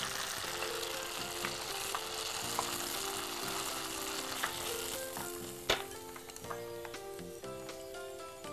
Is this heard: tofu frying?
yes